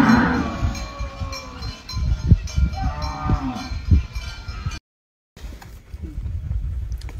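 A herd of cattle heads up to the feeding trough, their cowbells clanking steadily with occasional lowing moos. The sound cuts out in a brief silent break, then the bells resume.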